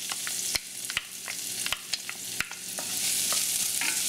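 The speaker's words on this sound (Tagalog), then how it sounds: "Ang gagawin natin ay igigisa na natin kagad yung bawang, pati na rin yung sibuyas." Lots of garlic, with onion, sautéing in hot oil left over from frying lechon kawali, a close sizzle broken by repeated sharp clacks of a spatula stirring against the pan, the frying swelling louder toward the end.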